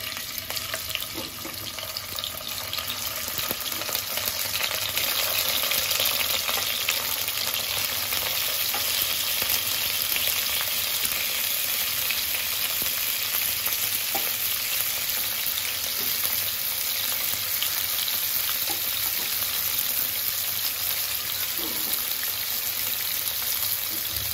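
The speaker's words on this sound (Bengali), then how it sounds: "মাছগুলো ভেজে নেব।" Tilapia pieces frying in hot oil for a fish curry with cauliflower and potato, a steady, dense, loud crackling sizzle running unbroken throughout with no voices.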